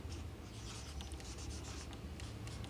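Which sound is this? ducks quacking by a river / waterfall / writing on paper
writing on paper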